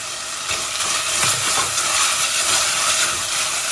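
Mint, ginger and garlic frying in oil for a lamb stew, a steady loud hiss of sizzling that swells briefly and stays close and constant.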